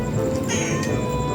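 A cat meows loudly and close by, one drawn-out, wavering cry that fills the moment, with steady background noise and no talk.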